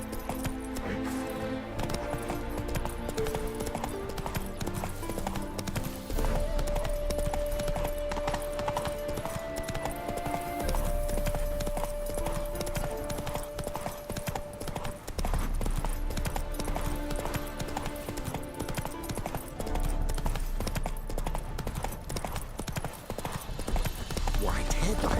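Geralt's horse Roach gallops in The Witcher 3 with a rapid, rhythmic clip-clop of hooves throughout, set under game music with a voice talking intermittently.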